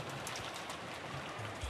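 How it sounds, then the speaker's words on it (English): Gloomy outdoor rain in the Umineko When They Cry visual novel, a steady, even patter and hiss of falling rain with no break, moderately quiet and heard alone. "And now we're in the outside. Gloomy rain."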